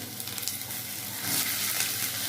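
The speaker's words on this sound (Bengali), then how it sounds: "একটু কালো জিরে ফোড়ন দিয়ে দিলাম, অল্প একটু গোটা জিরে ফোড়ন দিলাম। সব একসঙ্গে ভেজে নেবো" Black cumin and whole cumin seeds fry in hot oil as a spice tempering, a dense, continuous close sizzle that swells louder partway through.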